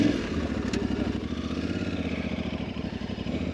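Aprilia Tuareg 660 adventure motorcycle riding through slippery mud, its engine chugging in a steady rapid pulse, loud and close, with no talk.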